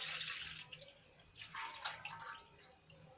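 Milk pours into a metal pot rinsed with water, a soft splashing liquid trickle heard close and faint, alone without talk.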